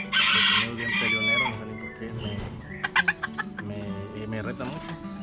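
A pet rooster clucks loudly up close and then lets out a crow, with a few sharp calls breaking through the steady clucking.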